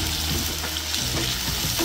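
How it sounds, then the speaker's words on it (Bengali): Sliced onions fry in hot oil for beresta, sizzling loudly and close with repeated scraping stirs in the pan. "নেড়ে চেড়ে বেরেস্তা করে নেব।"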